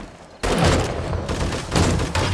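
Automatic turrets in the video game 7 Days to Die fire in loud, rapid bursts that start abruptly and keep going with brief dips between volleys.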